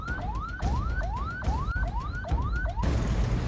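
Ambulance siren wailing in repeated rising sweeps, about six cycles, loud and close over traffic noise, ending in a burst of broadband hiss.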